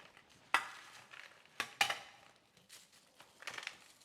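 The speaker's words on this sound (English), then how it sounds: "I don't want it clumped together in the freezer bag, so that's why I'm just breaking it up" Crinkling plastic and crunching bursts as frozen cabbage is broken up inside a gallon freezer bag, several irregular close crackles spread across the clip, loudest near the start and middle.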